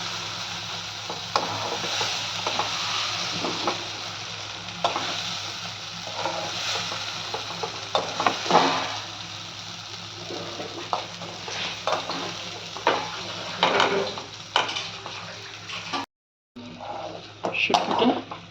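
Dried fish masala chutney fries in oil, a continuous hiss of frying under frequent scraping and stirring strokes, with one brief drop to silence near the end.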